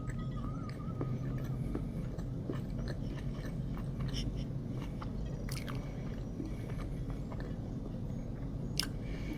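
A sandwich of lettuce, tomato and smoked turkey is bitten and chewed close up, soft wet munching and squishing continuing steadily under a low background rumble.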